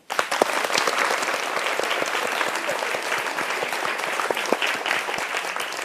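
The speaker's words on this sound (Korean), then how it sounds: "다시 한번 박수 주십시오." Dense, steady applause from a lecture audience fills the whole stretch, sharp claps crowding together at close range, with no voice over it.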